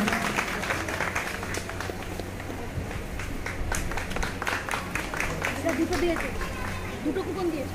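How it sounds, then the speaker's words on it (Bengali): Audience at a Durga Puja festival gathering clapping, a rapid crackle of many hands that holds steady and rises slightly toward the end, mixed with crowd chatter and a voice speaking. "সকলে একটু জোরে হাততালি দেবেন"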